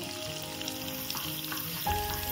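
Potato pieces frying in hot oil in a pan for doi aloo dum, a steady close crackling sizzle with a slight surge near the end of the brief moment.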